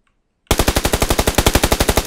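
Automatic gunfire from PlayerUnknown's Battlegrounds starts abruptly after a moment of silence, a loud, rapid burst of evenly spaced shots running continuously to the end.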